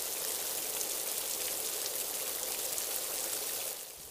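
Steady rain patters continuously in a Sakura School Simulator game scene, a dense even hiss of drops that eases slightly at the very end, with no voices.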